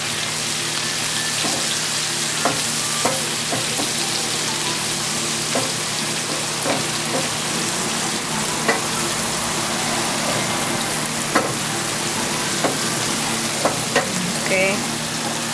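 Pork pancit canton with broccoli stir-frying in a pan, a dense, continuous hiss like heavy rain, broken by occasional light clicks and scrapes of stirring, close and steady throughout.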